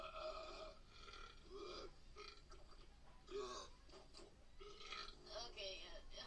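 Repeated loud burps in a burping contest, a run of long, croaking belches one after another with short gaps, close and prominent throughout.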